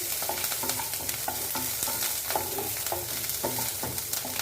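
Vegetables and mustard seeds sautéing in a pan for a Tamil stir-fry, a steady close sizzle broken by the scrape and clatter of a stirring spoon at regular intervals, with no voices.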